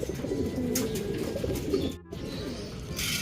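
Soft, low pigeon coos repeat amid a busy background rustle, with a brief knock or clatter near the middle.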